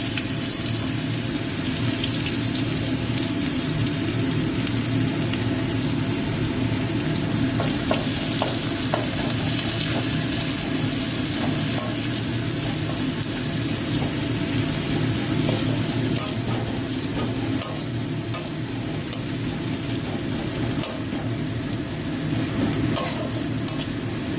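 Onions frying in a pan for katla fish kalia, a loud, dense, continuous sizzle with occasional crackles and stirring scrapes lasting the whole stretch.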